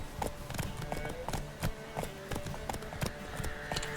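In a video game, a white horse's hooves clip-clop at a steady trotting rhythm, a clear run of quick taps over a low ambient game soundscape.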